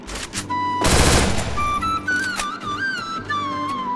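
An MP40 submachine gun in a video game lets off a loud, dense automatic burst lasting about a second, followed by bright electronic game tones and gliding whistles over a low steady hum.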